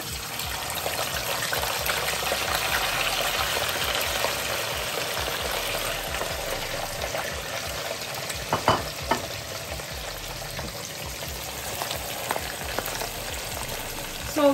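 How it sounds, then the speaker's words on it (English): Meat sizzles and crackles steadily in a hot pan for Nigerian efo riro soup, a continuous close frying hiss with a few clinks of stirring. "start frying my meat"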